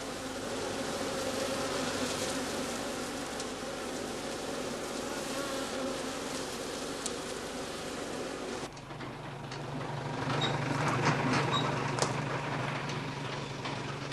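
Honeybees swarm at the entrances of straw skep hives set out on heather heathland, a dense continuous buzzing that holds steady and swells louder toward the end.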